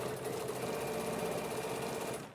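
A sewing machine runs steadily while stitching the seam of a fabric tablet holder, an even, fast mechanical whir that carries on throughout at low volume.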